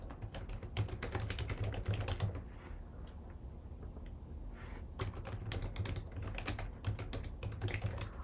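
Rapid clattering keystrokes on a computer keyboard while entering a page title, close and fairly quiet, in quick bursts with a brief slower pause midway.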